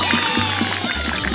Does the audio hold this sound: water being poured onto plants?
yes